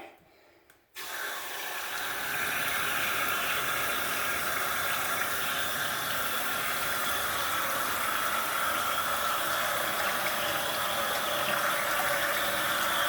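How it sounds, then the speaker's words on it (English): A waterfall faucet pours into a vessel sink, a steady, close hiss of flowing water that starts abruptly after a second of near silence and then runs evenly. "These waterfall faucets are so cool."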